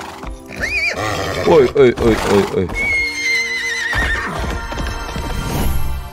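A horse in Minecraft Legends whinnies loudly and clip-clops along with game music, a short spoken exclamation and gameplay sounds layered throughout.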